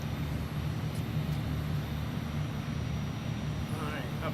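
Turboprop engines of an ATR72-600 airliner on a takeoff leg from Hiroshima, a steady loud low drone with propeller hum filling the cabin, voices talking over it.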